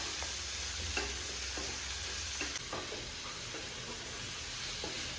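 Onions frying in a pan until lightly browned, a steady sizzling hiss running throughout with a few scattered clicks of stirring.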